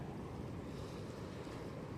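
Faint, steady wash of ocean surf rolling onto the shore, mixed with soft wind noise; no voices.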